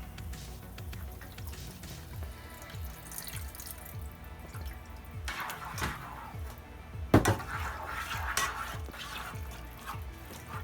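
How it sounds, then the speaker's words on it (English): Water poured into a homemade BBQ glaze of ketchup and other ingredients for oven-baked chicken, a steady trickling, splashing flow close by with a brief louder splash midway, no talking. "And I'm gonna go and add a little bit of water."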